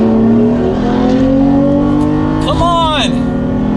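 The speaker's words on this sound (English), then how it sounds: "We're gonna downshift to 3rd gear here." A Toyota Tacoma engine revs hard after a downshift to third gear while racing a sports car, the note climbing steadily and loud up close, with a rising whine near the end and a voice talking over it.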